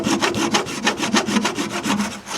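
Hand saw trimming a wooden breadboard end flush on a table top, a steady close back-and-forth rasp of about a dozen even strokes running throughout with no talk.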